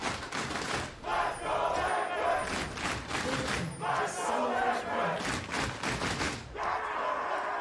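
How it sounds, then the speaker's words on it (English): Team Liquid fans roar and cheer in a packed esports arena during an LCS 2022 Spring Playoffs League of Legends match, a dense, sustained crowd din with swelling shouts and a commentator talking over it. "Team Liquid's fans roar to life."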